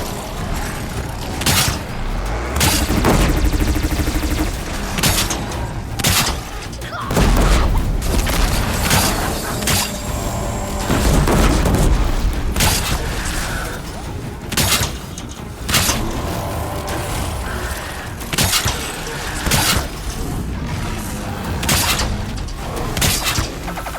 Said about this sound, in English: Disc launchers!